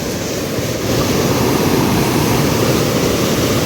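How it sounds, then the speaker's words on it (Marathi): Water pours over the edge of a lake in rural Konkan, a loud, steady, close roar of rushing flow with no break. "ते बघा ह्या पाणी जे आपण म्हणता की तलावावरनं पाणी जातं"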